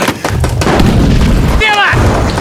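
A grenade goes off during close-quarters fighting inside a destroyed building, a loud, heavy blast with a rumbling tail and a short whistling ring afterward.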